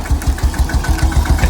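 Engine of an open-air truck reversing through a Thai village: a loud, close, low chugging throb with a fast, even pulse and no voices over it.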